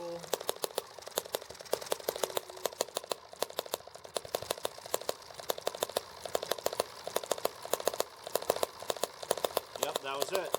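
A small single-cylinder engine, model EM2, starting on a cool damp day and running in a fast, steady rapid-fire clatter of even pulses throughout, close by and fairly quiet, without talk.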